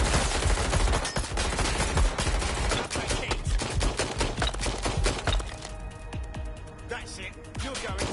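Rapid bursts of gunfire crackle through a shootout in Watch Dogs Legion on PlayStation 4, dense and loud at first, then thinning into scattered shots.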